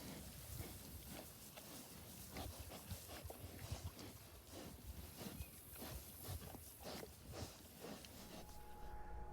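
Pigs moving about a farm pen, with faint grunts, shuffling and hoof steps scattered at a distance amid low background noise.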